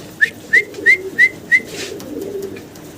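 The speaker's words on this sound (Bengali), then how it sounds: "আমরা সিঙ্গেল এক পিস কবুতর দেখতেছি" A fancy pigeon of grizzle colouring gives five short, evenly spaced calls in quick succession, clear and close. A quiet background murmur follows.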